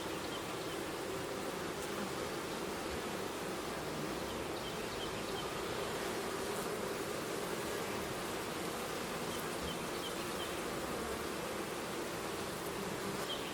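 A swarm of honeybees hangs in and around a tree, with some already shaken into a box. Their dense, steady buzzing fills the air without a break, close and loud, and no one speaks.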